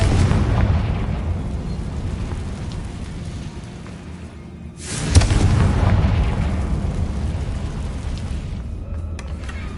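A Confringo spell blast in Hogwarts Legacy, a sharp boom that bursts out loud and close about halfway through, then rumbles and crackles away over steady background game noise.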